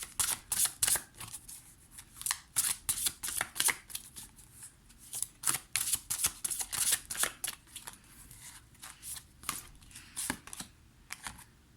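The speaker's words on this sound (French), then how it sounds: "Je vais te prendre deux cartes pour cette pleine lune" Tarot cards are shuffled by hand for a full-moon reading in a series of quick, crisp riffling bursts, close and fairly quiet, with short pauses between them and no voices.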